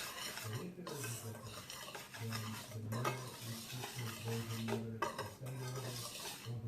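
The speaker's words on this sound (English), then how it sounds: "let me grab a whisk and we'll give it a stir" A whisk stirs a mixture in a bowl during Southern fried chicken prep, giving a steady scraping, clattering rhythm close by with continuous metal-on-bowl rattles and no talking.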